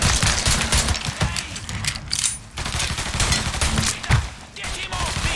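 Sustained bursts of rapid automatic gunfire from a Mafia 3 firefight fill the stretch, with overlapping shots and mechanical clatter, and game voices shouting beneath the barrage.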